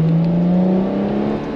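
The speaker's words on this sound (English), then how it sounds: "naturally aspirated V12." A naturally aspirated V12 engine in a Ferrari F12 TDF holds a steady, loud drone with a rising harmonic whine, as if revving under acceleration, continuous throughout with no voices.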